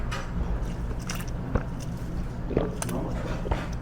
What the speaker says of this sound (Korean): 평양 물냉면 한번 먹어보겠습니다 일단 국물부터 육수부터